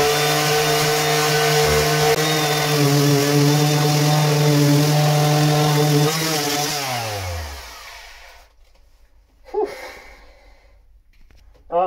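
Power sander working on wood, loud and steady with a droning hum that winds down and stops near the end, followed by quieter handling noises.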